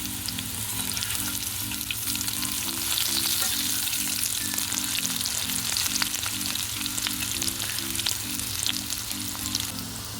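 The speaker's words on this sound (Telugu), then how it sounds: "ఒకవైపు ఫ్రై అయినాక ఇంకోవైపు టర్న్ చేసుకొని ఇలా ఫ్రై చేసుకోవాలండి" Slices of bitter gourd fry in a pan of oil, a steady close sizzle running through without a break, with a low repeating hum beneath it and no voices.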